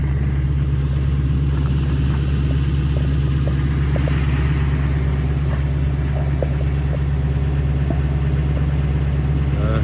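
A Dodge Durango's engine drones steadily from inside the cabin while driving, a constant low hum with road noise and a few faint clicks throughout, no voices.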